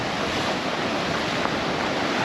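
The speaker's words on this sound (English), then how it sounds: "you can see the sea smashing against the rocks" Sea waves smashing against the rocks on the Mallorca coast at Portals Nous after storms, a steady, loud roar of surf with constant wash and wind rumble, close and unbroken, no voices.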